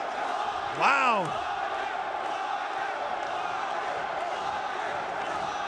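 A wrestling crowd roars steadily throughout the main event bout, a dense wall of far, sustained cheering with one louder, rising whoop near the start; a voice calls out briefly.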